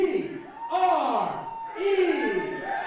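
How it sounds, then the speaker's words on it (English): Wrestling event crowd cheering and whooping as a performer is called out to the ring, with loud swelling shouts in two waves over a steady noisy backdrop, rising voices and yells mixed with applause. "please give a big round of applause as I invite out to the ring"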